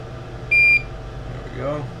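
A single short, steady electronic beep from a test device during wiring repair sounds once over low workshop hum, followed by a faint murmur.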